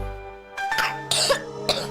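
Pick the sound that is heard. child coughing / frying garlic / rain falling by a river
child coughing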